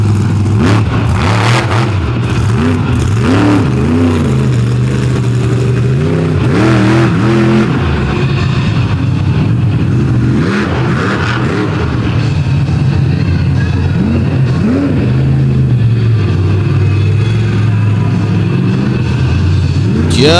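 The wing-clad Monster Patrol monster truck roars at an outlaw monster truck drag event in Canfield, Ohio, its big engine revving and surging in repeated rising and falling pulls, loud and continuous throughout.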